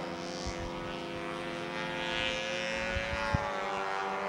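A model airplane flies judge warm-up flights at a model aircraft contest, its propeller buzzing with a steady, moderately distant drone. A few soft thumps and knocks sound nearby.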